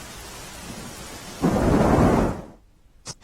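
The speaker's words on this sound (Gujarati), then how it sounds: "સમગ્ર શહેરમાં ગતરોજ સાંજથી જ ધોધમાર વરસાદ વરસી રહ્યો છે" Steady heavy rain in Surat, India, is joined by a deep, loud roll of thunder that swells for about a second, then fades to near quiet.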